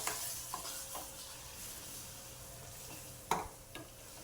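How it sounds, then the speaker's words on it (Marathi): Spices are stirred into a cashew curry masala in a pan, a quiet sizzle under a few sharp scrapes and taps of the spoon against the pan. "हे आता छान मिक्स करून घ्यायचं."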